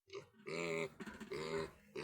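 Piglets at weaning being weighed, with close, rough vocal grunts and squeals in several loud bursts separated by brief pauses.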